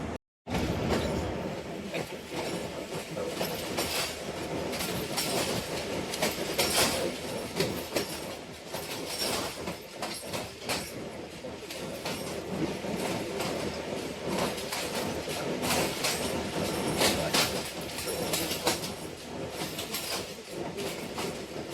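Sialkot Express passenger train on the Wazirabad–Narowal branch line, heard as a steady, loud rolling rumble of wheels with clickety-clack rhythm and occasional metallic squeal, sustained throughout without talk.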